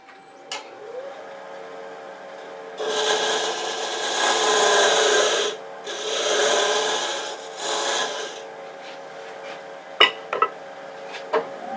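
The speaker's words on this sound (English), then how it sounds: "I want to come back and soften that up a little bit with that scraper" A scraper works the shoulder of a wood-turned box spinning on a lathe, producing three loud, sustained rasping passes separated by short pauses, then a few sharp knocks near the end over a low motor hum.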